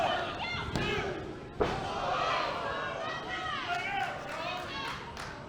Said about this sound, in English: you hear the crowd in Birmingham, Alabama